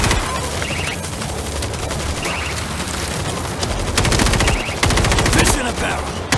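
Loud, continuous gunfire fills a World War Z zombie horde battle. Several weapons fire dense overlapping bursts without pause, with heavier volleys toward the end.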